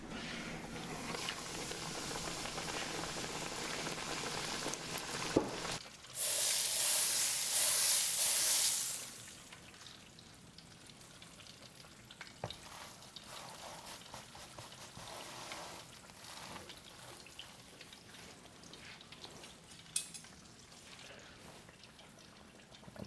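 Flour-dredged chicken frying in hot oil for a fried chicken sandwich; a sudden loud sizzling hiss erupts for a few seconds, then settles into a quieter, steady crackle with occasional pops.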